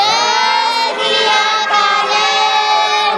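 Many children shout a Sikh jaikara chant together in response, a loud sustained crowd of young voices from a gathering, filling the whole stretch with little pause.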